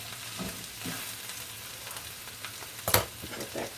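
Kale sautéing in a pan as it begins to wilt and shrink, a soft steady sizzle with occasional stirring scrapes and one sharper clatter near the end, close and moderately quiet with no talking.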